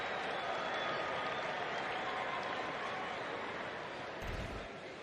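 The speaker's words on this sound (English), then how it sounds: "You hear the applause from an entire section." A whole section of fans at a major league baseball game between the Angels and the Rays applauding from the stands, a steady broad wash of clapping heard from a distance over crowd noise.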